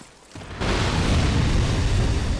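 A loud, sustained blast from an attack in the video game Dark Souls 2 erupts after a brief quiet lead-in and rumbles on as a dense, roaring burst.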